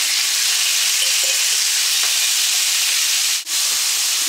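Pieces of beef roast hit a hot pan and sizzle loudly in a continuous hissing fry with faint stirring. A brief dip in level comes midway, and no one speaks.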